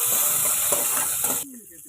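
Mustard seeds, curry leaves and green chillies sauté in a pan with a bright steady hiss and sizzle and a few stirring scrapes, stopping abruptly near the end.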